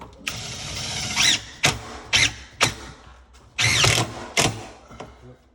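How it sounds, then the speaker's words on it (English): Drill driving screws through a cabinet filler strip into a wooden backer for euro-style cabinets, heard as several short, sharp whirring bursts with quiet pauses between them. "hold it where it needs to go on the cabinet, height-wise, and screw it to that backer"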